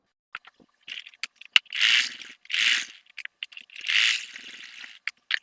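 A sewing machine runs stitches along a sleeve seam, doubling the stitching at the lower edge, in three short whirring bursts separated by light mechanical clicks and handling noises, with no talking.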